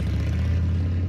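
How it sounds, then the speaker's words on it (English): A popular American motorcycle engine idles with a steady, close, low rumbling throb, heard alone. "This is the sound of a popular American motorcycle."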